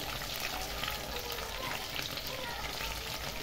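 Chicken deep frying in oil at a steady, dense sizzle, close and continuous, with a faint hiss running throughout and no pauses.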